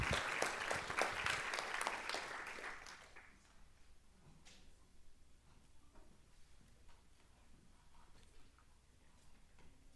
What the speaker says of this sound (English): Give them another round of applause here